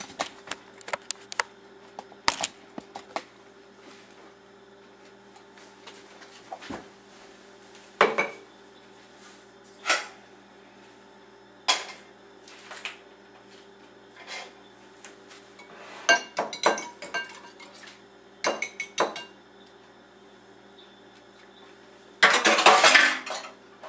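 A whisk or utensil clinks and scrapes in a bowl while egg and butter are mixed into vinegar-milk pancake batter, heard as scattered sharp metallic taps over a quiet room, intensifying into rapid clattering whisking at the end.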